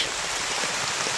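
Steady rain falls continuously, a dense even wash of drops pattering on a surface, loud and close with no break and no voices.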